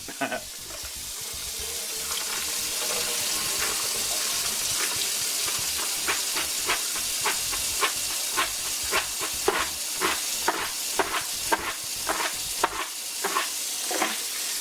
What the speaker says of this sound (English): I'm going to drain off my beans here.